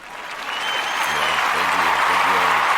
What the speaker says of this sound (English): I think I got some applause for you